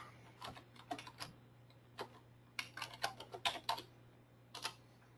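Irregular clicking of keys on a computer keyboard as an equipment name is typed, bursts of quick taps and short pauses, close and quiet over a steady low hum.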